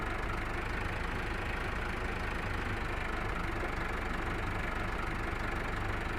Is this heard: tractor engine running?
yes